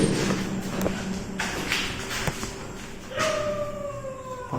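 A dog howls at night outside a bungalow in Tamil Nadu: a drawn-out, wavering tone that rises then slowly falls near the end, over a steady hiss of background noise.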